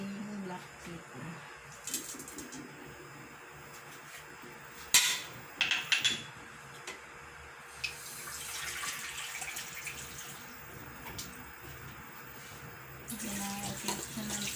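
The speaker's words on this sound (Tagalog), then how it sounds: "Lagyan natin siya ng tubig." Water poured into a pot of pork humba seasoned with vinegar and black pepper before pressure cooking, a steady running splash with a few brief clatters in a kitchen.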